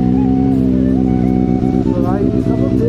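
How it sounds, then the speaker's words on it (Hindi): A Benelli 600i motorcycle engine runs steadily nearby, its loud, even low drone holding throughout with a slight waver in pitch. "तो भाई सब लोग देख रहे हो गाड़ी का साउंड कितना ही प्यारा है यार"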